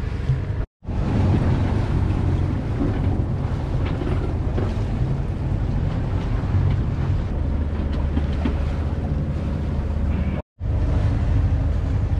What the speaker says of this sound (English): as you can hear, the motor's still running